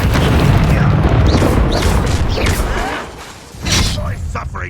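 A fire spell cast in Hogwarts Legacy on Xbox Series X lands as a loud, sustained whooshing burst with booming impacts and rumbling game effects, while a voice shouts over the din.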